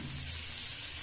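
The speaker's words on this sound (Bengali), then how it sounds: "লঙ্কাগুলো ঠিক এইরকম ভাজা হবে" Stuffed green chillies fry with a splash of water in a pan, giving a steady, close hiss and sizzle that holds evenly throughout.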